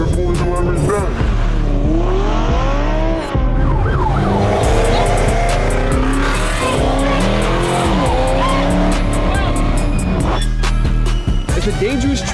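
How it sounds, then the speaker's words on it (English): Cars in a reckless highway street race, engines revving and roaring with swooping pitch, tires squealing, loud and close throughout, with excited voices talking over the noise. "It's when cars drive recklessly on highways, causing near misses or weaving through lanes."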